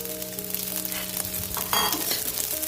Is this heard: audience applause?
no